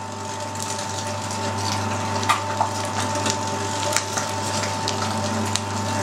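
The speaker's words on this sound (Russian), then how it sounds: "Поменяли решеточку на более крупную и перекручиваем всю жирную" An electric meat grinder forces fatty pork through a coarse plate, a steady loud motor hum with squelching and occasional crunching clicks as the meat is pushed through.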